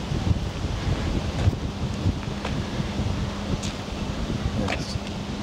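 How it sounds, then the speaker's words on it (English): Gusty wind buffets the microphone on a lakeside beach, producing a continuous rumbling roar with faint rustling and possible lapping water in the background. "It's really windy on the water."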